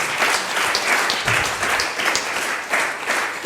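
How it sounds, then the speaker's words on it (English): Audience applause for the speakers at a partnerships summit, a dense, steady round of clapping from a full room that holds at the same loudness throughout, with no voices over it. "Just a big warm round of applause again for all our speakers."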